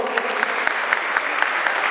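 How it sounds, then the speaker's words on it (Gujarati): An audience claps at a college annual function, a dense burst of steady applause with a few sharper individual claps standing out, heard close and alone. "આપણે સૌ આ ઇતિહાસની સોનેરી ક્ષણને તાળીઓના ગડગડાટથી વધાવતા રહીએ."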